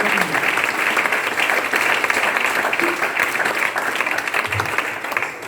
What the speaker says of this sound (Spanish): Un aplauso para el Señor en esta hora.